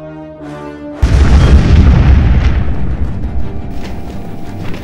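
A heavy explosion bursts suddenly as a shuttle comes under fire in a film, followed by a loud sustained rumble of blasts and debris that slowly fades.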